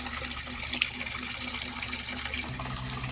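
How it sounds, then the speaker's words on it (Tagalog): Free-flowing water pours in a steady, unbroken gush, a constant close rush with no pauses and no voices. "Sige lang ang buhos ng tubig."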